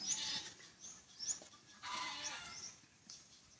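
A farm goat with many kids bleats several times in quick succession, high nasal calls close by, separated by brief pauses with no talking.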